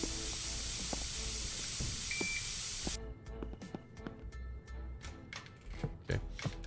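A spray can hisses in a sustained, loud burst for about three seconds in the video game Internet Cafe Simulator 2, then cuts off, leaving scattered clicks and faint background game sounds.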